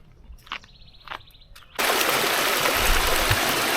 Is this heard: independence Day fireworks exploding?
no